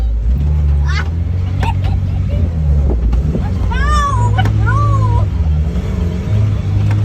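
A rebuilt Suzuki Samurai on its first test drive in low transfer-case gears, a loud steady engine drone close by, with people talking and a cat meowing over it.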